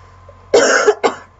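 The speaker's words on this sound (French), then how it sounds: "Suis désolée de tousser comme ça." A woman coughs twice in quick succession, close and loud, the first cough longer and the second short, against a quiet background.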